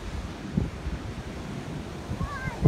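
Pacific Ocean surf on an overcast California coast gives a steady low rumble of waves with wind buffeting the microphone, and a faint bird call near the end.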